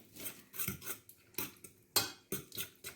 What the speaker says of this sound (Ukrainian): И розмішуємо.